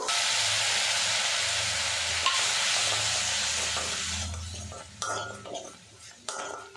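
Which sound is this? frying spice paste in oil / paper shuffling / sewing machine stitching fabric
frying spice paste in oil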